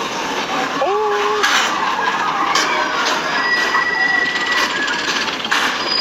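Disneyland railroad train passing in the background with a faint rumble and brief metallic squeals, under a steady crowd murmur, with a person's short exclamation near the start.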